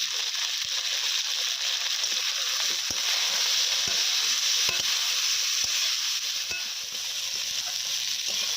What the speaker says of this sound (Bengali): ঢেঁড়স এবং আলু ভাজা হয়ে এসেছে